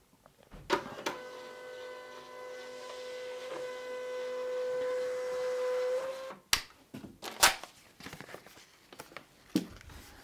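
A label printer runs steadily for about six seconds with a sustained mechanical whine while shipping labels feed out, followed by a few sharp clicks and handling knocks, with no one talking.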